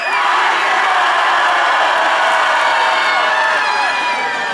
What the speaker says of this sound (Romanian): Vreau să văd cât de tare poate să strige oamenii de aici din Alba Iulia varză la numărătoarea mea la 3, 2, 1